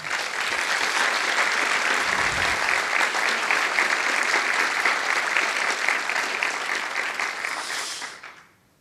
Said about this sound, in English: So a massive round of applause for all of our video team.